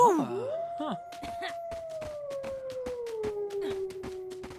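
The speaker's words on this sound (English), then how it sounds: "The only thing I can do with her right now is howl." A werewolf in the Sims 4 video game lets out a long, rising-then-falling howl that sustains and slowly drops in pitch, accompanied by a string of sharp clicks and brief yelps, moderately loud and without speech.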